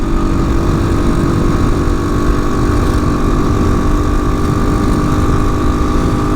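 A TaoTao 250 Chinese dual sport motorcycle cruising, its engine droning steadily under a constant rush of wind noise, loud and unbroken throughout with no talking.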